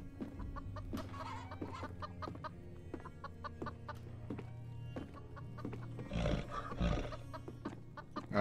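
Chicken clucking in the horror video game Devour, short repeated clucks over a steady low game drone with clicks and shuffling footsteps.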